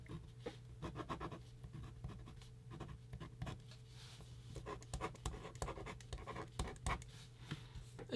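A pen writes on ordinary paper, making faint, close scratchy strokes and small taps in an irregular rhythm over a quiet background.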